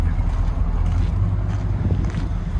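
A 1978 Ford F-250 4x4 with a 460 V8 running, a loud steady low rumble of the engine with throaty pulsing, close by and without speech.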